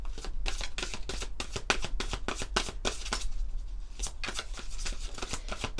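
Oracle cards being shuffled by hand, a rapid run of crisp papery riffles and slaps repeating steadily, close and clear with no talking.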